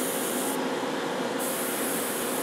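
Tamiya RC truck parts for a Freightliner Cascadia model get spray painted from an aerosol can, a steady close hiss running unbroken through the whole moment with no talking.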